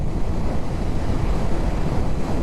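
Strong wind gusts in from one side outdoors, a loud continuous low rumble buffeting the microphone with no voices.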